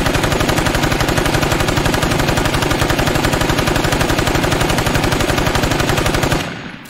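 The Raiders AR-15 rifle in the video game State of Decay 2 fires on full auto, a loud, close, unbroken stream of rapid, evenly spaced shots that lasts about six seconds and then stops abruptly.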